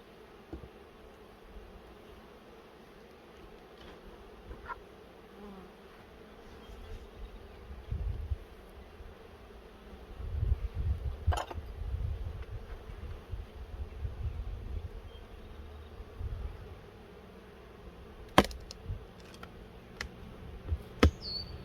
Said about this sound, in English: Wow, there are a lot of bees on the top super here.